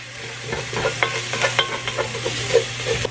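Aromatics for a potato moussaka sizzle steadily in a hot pan, with a spoon scraping and stirring in repeated irregular strokes close by, and no talking.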